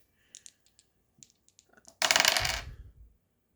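Dice rattle and tumble across a hard surface in one brief, bright clatter, preceded by a few light clicks and taps, close and fairly quiet with no talking.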